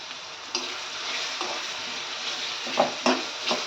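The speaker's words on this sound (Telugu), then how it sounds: "వన్ మినిట్ ఫ్రై చేసుకోవాలి" Raw prawns and mango pieces frying in a pan for a curry, with tomato and green chillies added, give a steady sizzle broken by a few sharp stirring scrapes near the end.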